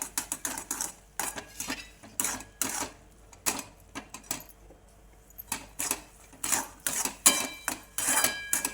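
A spoon scrapes and knocks rhythmically against a pan while mango semolina sheera is stirred, a run of sharp, close clinks and scrapes repeating every half second or so.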